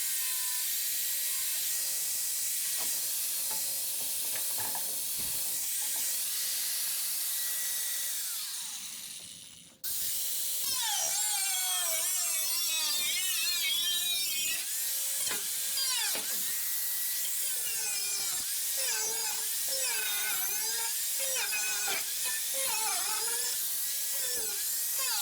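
A power tool cuts out rusted metal on the nose of a 1971 Volkswagen T2 Bay Window bus, a high whine rising and falling in pitch with a brief stop partway through, loud and close.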